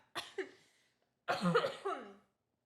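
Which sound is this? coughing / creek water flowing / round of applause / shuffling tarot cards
coughing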